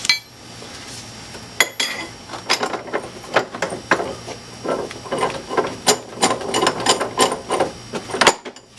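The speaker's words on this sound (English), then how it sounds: "We can go ahead and remove the spring compressors." Spring compressors being removed from a car strut during an Isuzu Stylus camber plate install, giving a string of close metallic clinks, clanks and ratcheting taps at an irregular pace.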